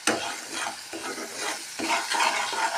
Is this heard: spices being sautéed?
yes